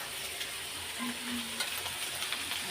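Cut potatoes fry in a pan until reddish, a soft, steady sizzle with a few faint stirring taps, heard alone and fairly quiet.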